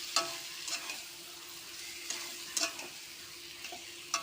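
Lote fish curry being stirred in a frying pan, with soft scraping strokes every second or so over a steady low sizzle, close and fairly quiet.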